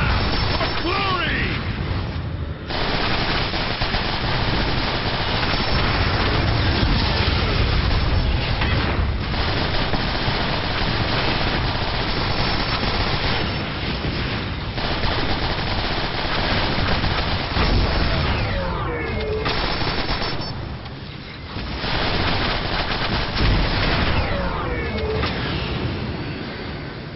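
Gunfire from the video game Transformers: War for Cybertron, dense and continuous, with rapid bursts and booming blasts against station defenses throughout, voices shouting over the battle.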